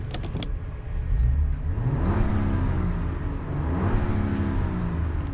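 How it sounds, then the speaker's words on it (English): A turbocharged inline-six in a new Jeep Wagoneer revs up twice from idle, each rise swelling and falling back smoothly, heard close in a steady engine drone with no talk. "So quick rev check."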